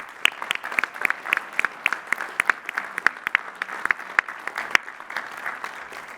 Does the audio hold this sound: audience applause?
yes